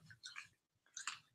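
Quiet, wet crunching and munching of popcorn chewed close to the mouth, in two short bursts with a brief pause between them.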